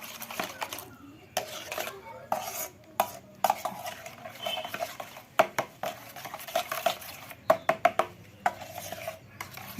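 A spoon stirring sugar and cumin powder into roasted mango sharbat, with repeated clinks and taps against a glass or bowl in uneven rhythm, close and fairly loud, some sharp strikes clustered toward the end.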